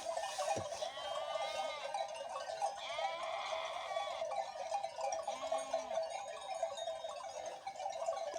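A village sheep flock at dawn, with several bleats overlapping at middle distance over a steady background of chiming cowbell-like bells and soft shuffling, with no one talking.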